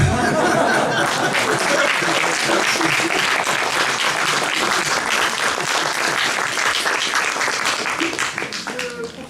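An audience applauds at a French history lecture on the Six Burghers of Calais, a dense, steady roar of many hands clapping that holds loud and close before gradually thinning toward the end.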